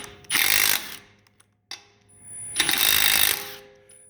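A Milwaukee M18 Fuel 3/8-inch compact impact wrench removes lug nuts from a tire in two loud, rapid hammering bursts, each about half a second to a second long, separated by a brief quiet gap.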